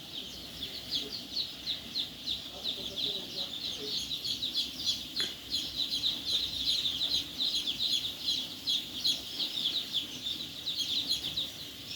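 Chickens with newly hatched chicks in a coop: a steady chorus of high, thin chick peeping fills the clip over soft clucking and scratching from the hens, with no clear speech.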